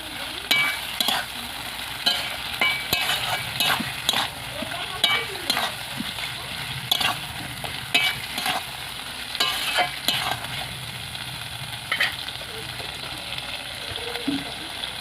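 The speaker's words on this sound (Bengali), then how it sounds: "ভালো করে কষিয়ে নেব সব কিছু একসাথে।" Pointed gourd curry with fried prawns is stirred in a pan, giving repeated scraping spoon strokes over a soft, steady sizzle, close and moderately quiet with no talking.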